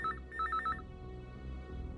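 A telephone rings in short repeated electronic bursts, fairly faint, then stops and a low hum remains.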